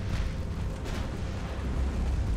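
Torpedo explosion striking a ship in the naval game Ultimate Admiral, a deep, sustained rumbling blast that stays loud and dense for the whole short stretch.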